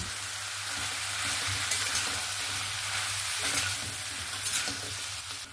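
Spices being stirred with a fish head in a pan, a steady scraping and frying sizzle running continuously without pause, close and moderately loud, no talk over it.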